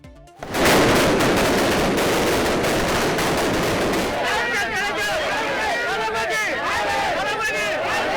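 Firecrackers burst in dense, continuous crackling volleys at a DMK party victory celebration in Vikravandi and Chennai, loud and sustained, with crowd noise and chatter mixed in.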